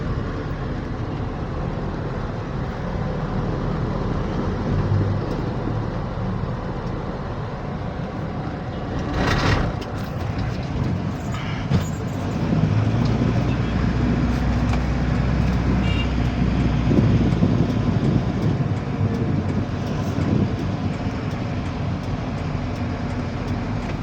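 A Mitsubishi Fuso truck is road tested after repair work, driving through traffic with a steady engine and road rumble that swells briefly partway through and stays fairly loud throughout.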